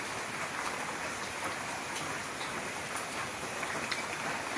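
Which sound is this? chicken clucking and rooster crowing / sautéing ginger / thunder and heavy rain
thunder and heavy rain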